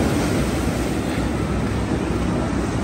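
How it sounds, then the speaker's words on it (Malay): Strong sea waves breaking at the beach in Port Dickson in the morning, a dense, steady wash of surf mixed with wind noise, loud and continuous, with no talk. "Rupanya ombak kuat"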